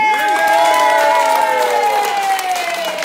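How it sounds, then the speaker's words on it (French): A festive crowd at a nursing-home Miss and Mister pageant breaks into loud, continuous applause and cheering. Sustained bright voices ring over the dense clapping for the whole stretch. "Applaudissements une première fois."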